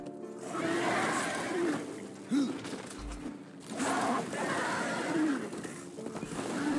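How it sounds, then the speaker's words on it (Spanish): A horse neighs in the video game Darksiders 2, several drawn-out whinnies rising and falling over a few seconds, heard clearly above faint background noise. "Caballo tonto."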